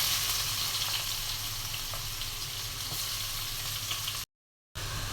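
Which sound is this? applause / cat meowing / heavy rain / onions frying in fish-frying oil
onions frying in fish-frying oil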